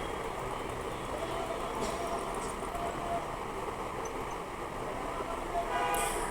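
A stationary train of northern Bengal stands at a platform of Kamlapur railway station while passengers board; steady, dense station ambience with rumbling and murmuring crowd noise throughout, and a brief brighter hiss near the end.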